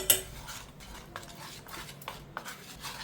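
Henna powder being mixed in a bowl, a series of close scraping and clinking strokes from a utensil against the bowl in an uneven rhythm, moderately quiet, no talking.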